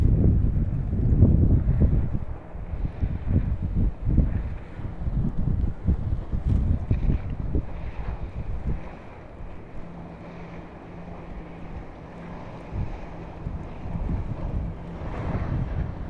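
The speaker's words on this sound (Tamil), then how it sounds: "அது கப்பல் ஏதோ வேகமாக போயிட்டுருக்கு" Wind buffeting and rushing water from a cruise ship moving fast through the sea, heard from on deck as a continuous blustery roar with surging swell, no voices.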